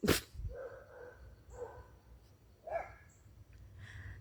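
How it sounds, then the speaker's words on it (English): A dog gives a series of short, close barks and yips spaced about a second apart, with no talking. "This dog will shut up."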